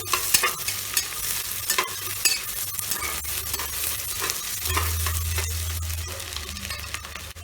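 Long-sliced onion fries in a pressure cooker for masala pulao and is stirred by hand, with rhythmic close scraping clicks over a steady sizzle and no talking.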